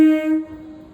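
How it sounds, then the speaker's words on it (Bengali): A Naihati local train from Sealdah pulls into Naihati Junction station and sounds a loud, steady horn blast that cuts off after about half a second, leaving faint rumbling. "ট্রেনটা দেখো খুব সুন্দর ঢুকছে।"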